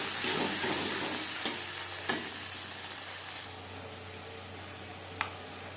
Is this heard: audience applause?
no